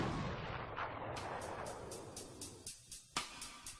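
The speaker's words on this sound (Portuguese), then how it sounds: "Os projéteis disparados por esta arma imitam os detritos de um cometa viajando a velocidades letais" A high-speed impact test gun fires a projectile at the University of Denver impact testing centre: a loud roaring blast that fades, followed by a quick run of sharp rhythmic cracks.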